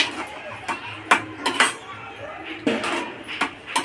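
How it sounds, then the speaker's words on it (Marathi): A spoon stirs matar paneer curry in a pan after a pinch of sugar goes in, clinking and scraping against the metal in irregular bursts while a voice talks over it. "याच्यामध्ये थोडीशी चिमूटभर साखर आणि चांगलं मिक्स करून घ्यायचं आहे"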